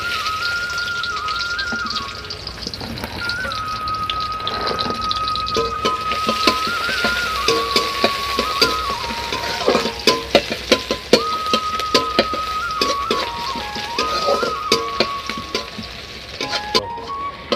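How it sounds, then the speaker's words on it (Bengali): Onions frying in oil in a kadai, stirred with a steady sizzle, metal spoon clinks and scrapes growing busier toward the end, and a thin whistling tone running alongside, for a Bengali potol curry. "আর এখন পেঁয়াজটা আমি একটু তেলে নাড়ছি"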